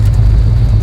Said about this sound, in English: especially this kind of turbocharged rotary engine, it is crazy